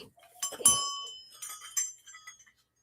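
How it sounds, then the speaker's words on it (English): Small brass bells made by Midwest jingle when handled, giving several bright, ringing clinks and chimes in two short bursts that fade quickly, close up with no talk. "Look at these brass bells."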